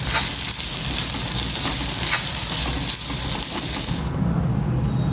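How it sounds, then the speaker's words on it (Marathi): Steady, loud sizzling of browned onion and coconut frying in a pan, with faint stirring scrapes, continuous throughout and easing off slightly near the end. "कांदा आपला बऱ्यापैकी ब्राऊन झाला आहे खोबरं टाकते मी त्याच्यात"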